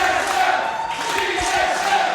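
Wrestling crowd at a Halloween show in Nashville, a steady dense roar of cheering and shouting that holds at full level throughout.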